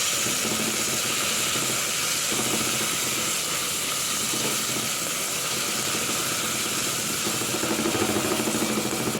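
Garlic and onion sauté in a hot pan while a chicken sandwich filling is cooked, giving a steady, close broadband hiss that holds evenly throughout with no talking.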